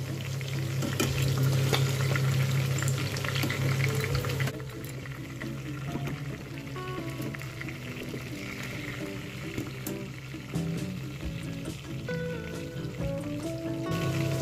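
Sea fish, satin and sardine, frying in hot oil, with a steady close sizzle and crackle that runs unbroken throughout, some stirring and light clatter, and no talk.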